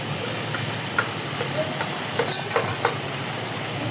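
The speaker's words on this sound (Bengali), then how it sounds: "এখন আমি কলিজাগুলো দিয়ে দিব এই কলিজাগুলো আমি সিদ্ধ করে নিয়েছিলাম" Boiled chicken liver goes into a pan of spices being fried down, a loud close sizzle and hiss with a few sharp spatula scrapes and knocks scattered through it.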